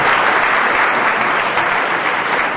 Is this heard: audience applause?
yes